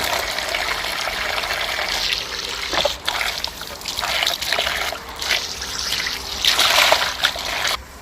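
Peeled shallots are washed under running water for a Thai tom yum with snapper, a steady close splashing trickle with shifting bursts as the water strikes the shallots and the bowl.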